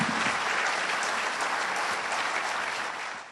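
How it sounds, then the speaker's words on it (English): Dense, sustained applause from a dinner audience at a business meeting, honoring panelists; steady and full throughout, tapering slightly at the end. "Please, a warm round of applause for our panelists"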